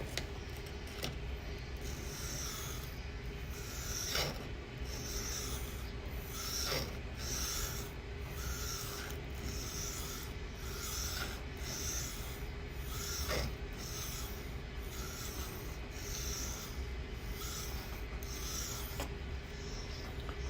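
A Spyderco knife blade is drawn over a coarse 320 grit sharpening stone in steady, repeated rasping strokes, each scrape short and fairly faint, with small clicks between passes.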